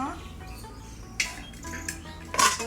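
Metal karahi woks clank against each other in a home kitchen, a few sharp clinks and knocks spaced over a low background hum, close and moderately loud.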